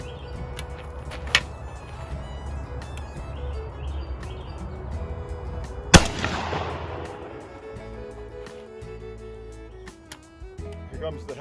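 A 12 gauge shotgun fires a Remington Nitro 3 1/2 inch turkey load outdoors at 20 yards, one sharp loud blast midway followed by a fading rumble, with quieter earlier report, birds chirping and faint voices in the background.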